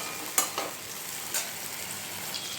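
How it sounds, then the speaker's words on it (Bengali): Capsicum with vinegar frying in oil while being stirred: a soft, steady sizzle with a couple of brief spoon scrapes, close and fairly quiet. "ভিনিগারটা দিয়ে এবার ভালো করে আবার নেড়ে চেড়ে নিতে হবে, যতক্ষণ তেলটা না ছাড়ে ততক্ষণ অবধি নাড়তে হবে।"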